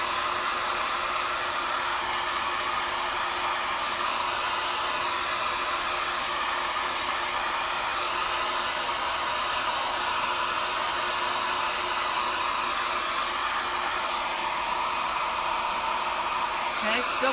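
A hair dryer runs continuously at close range, blowing a steady, even whoosh while drying freshly printed ink on a t-shirt.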